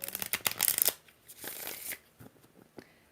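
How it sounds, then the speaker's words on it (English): Tarot cards are shuffled in a quick riffling burst at the start, then a few softer shuffles and card slides follow close by, with no talk over them. "3 more shuffles for Jamie."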